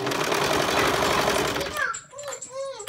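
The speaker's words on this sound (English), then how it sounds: "I go pretty slow because I like to make sure, because I've got a lot of layers here." A sewing machine stitches binding slowly through layers of swim fabric, lining and power mesh, a dense steady whir that stops abruptly, followed by a person speaking.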